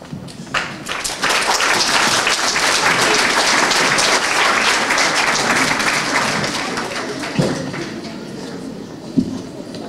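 An audience at a school community event applauds its sixth-, seventh- and eighth-grade actors, a loud sustained wash of clapping that fills nearly ten seconds, with a few sharper claps near the end.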